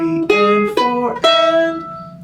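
Mandolin picking a short phrase of the E part of a bluegrass tune: a few bright plucked notes ringing close and loud, then fading out, with no voices.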